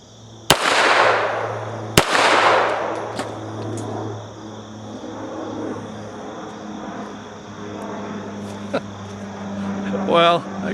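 A French Model 1935A pistol fires two sharp, loud shots about a second and a half apart outdoors, each cracking out and fading into a low background rumble.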